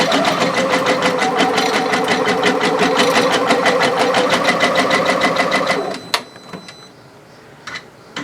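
A Janome MB-7 embroidery machine stitches with a loud, fast, even mechanical chatter for about six seconds, then stops, leaving a few clicks and quiet handling noises.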